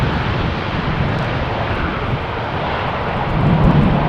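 An ITA Airways airliner landing on runway 18R at Amsterdam Schiphol in crosswind conditions, a loud, continuous broadband engine roar that swells slightly toward the end, with some wind buffeting.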